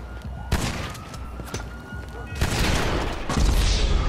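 Scattered gunfire in a video game, with several sharp shots and bursts popping at mid distance over a steady backdrop of game ambience, rising into denser firing toward the end.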